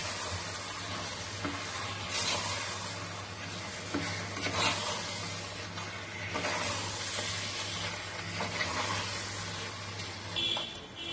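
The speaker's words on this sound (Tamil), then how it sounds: "ஒரு 5 நிமிஷத்துக்கு இதே மாதிரி நல்லா பெரட்டி விட்டுக்கோங்க. அப்பதான் மசாலாலாம் கறியில நல்லா ஒட்டும்." Mutton being stirred with masala in a hot pan for biryani, a continuous loud sizzle with repeated scraping and clattering of the spoon against the pan throughout.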